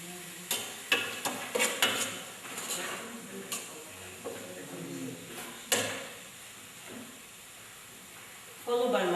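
Spoon knocking and scraping in a cooking pot as diced pepper, carrot and powdered ginger, garlic and nutmeg seasonings are stirred, a few sharp clacks early then softer sizzling scrapes, with speech at moments.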